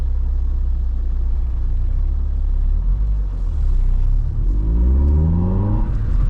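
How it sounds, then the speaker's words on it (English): Road traffic diverted around a closed road, with cars and heavier vehicles rumbling past close by in a steady stream, one engine revving up loudly near the end. "the traffic's having to come round"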